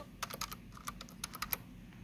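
Someone types on a computer keyboard in a quiet room, a quick, soft, uneven run of key clicks heard alone, up close.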